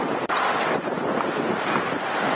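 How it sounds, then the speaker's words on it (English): Strong wind blows across a Pacific Ocean beach in a city, roaring and buffeting the microphone steadily throughout, with surf likely mixed into the rush. "It's very windy."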